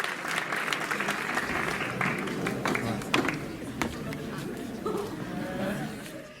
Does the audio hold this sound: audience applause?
yes